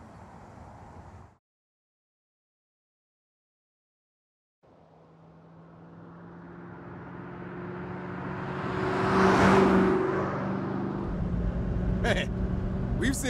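A car in the video game Saints Row pulls away after a brief silence, its engine hum building steadily into a loud whirring drive that swells and holds, with a few sharp clicks near the end.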